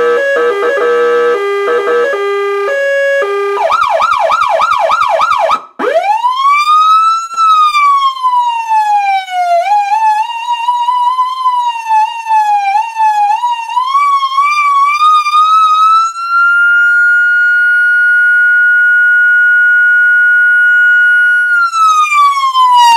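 A 1991 Carson SA400-74 American police siren blares very loud and close, starting with rapid stepped tones, then a long rising and falling modulated wail that settles into a steady high tone before dropping, with no talking.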